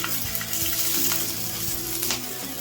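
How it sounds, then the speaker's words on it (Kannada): Mustard seeds and green chillies sizzling in two spoons of hot oil for a tempering, a steady close hiss with light popping and crackle and no speech. "ಇದಕ್ಕೊಂದು 1/2 ಸ್ಪೂನ್ ಅಷ್ಟು ಸಾಸಿವೆ, ಮೆಣಸಿನ್ಕಾಯಿ ಹಾಕ್ಕೊತಾ ಇದ್ದೀನಿ"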